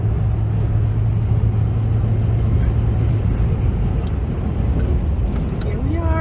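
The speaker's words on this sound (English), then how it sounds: "Here we are driving up the highway." Steady road rumble from a car cruising up a highway toward the Blue Ridge Mountains, a continuous low drone with tyre and engine noise filling the cabin, no speech.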